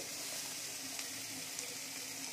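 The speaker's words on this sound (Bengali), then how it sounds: "এই তেলের মধ্যে আমি দিয়ে দেব গোটা ধনে, শুকনো লঙ্কা, আদা কুচি" Whole coriander, dried chili and chopped ginger sizzle in hot oil with a steady, even hiss and faint crackles, close by and continuous with no talk.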